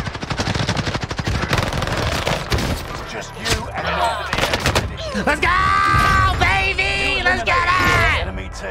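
A PPSH submachine gun in Call of Duty on Rebirth Island fires in loud, rapid sustained bursts, with overlapping gunfire and booms, while someone talks over the shooting.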